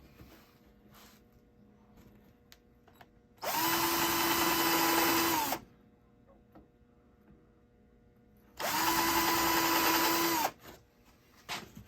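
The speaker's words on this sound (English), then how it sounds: "And then we're going to take the drill bit with the set." A power drill boring into wood for a beehive feeder shim runs in two separate bursts of about two seconds each, whining loudly with a steady motor pitch, with quiet pauses between.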